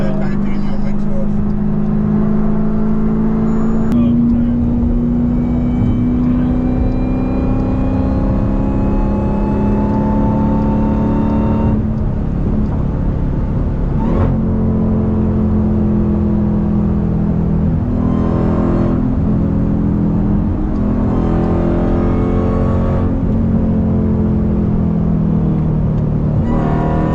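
A Dodge Durango SRT Hellcat with a titanium exhaust drives at speed, its engine droning steadily and loudly with rising and falling pitch as it accelerates and shifts, under people talking inside the cabin.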